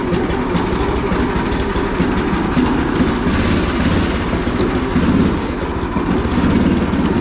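Small go-kart engine running steadily after a bad ground was fixed, a loud, close, continuous rough drone with no pauses and no talk.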